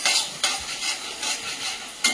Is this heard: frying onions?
yes